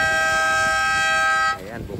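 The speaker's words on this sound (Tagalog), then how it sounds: "And ayan, bumusina na mga paps." A boat horn near an island off Boracay sounds one long, loud, steady blast of about a second and a half, then cuts off into background chatter.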